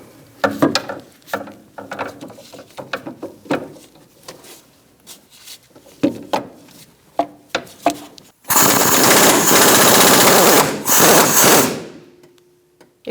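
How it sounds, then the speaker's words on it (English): An impact gun with a swivel socket working a stuck 17mm rear upper control arm bolt on a 2002-2006 Honda CR-V: several short clicking ratchet-like bursts, then a long loud continuous hammering buzz of the impact gun, up close. "I'm going to use a swivel with an impact gun"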